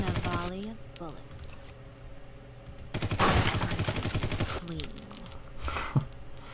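A rapid volley of gunfire from the gangster strategy game Omerta - City of Gangsters rattles out in a dense burst in the middle, with shorter bursts around it and someone talking over the game sounds.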